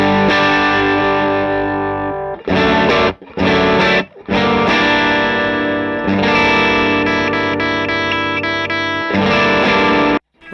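Electric guitar through a Matchless HC-30 amplifier on channel 1, loud and driven with rich sustained chords that ring out, broken by a couple of short pauses and staccato stabs, then held chords again until a sudden stop.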